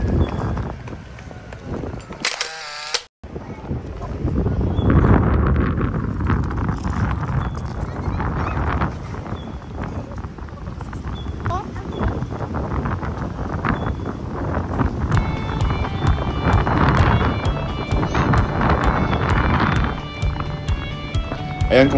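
Strong wind buffeting a microphone outdoors on a walk through Liberty Square at the Chiang Kai-Shek Memorial Hall in Taipei, a constant low roaring rumble with gusts, close and loud throughout, with a brief sharp break near the start.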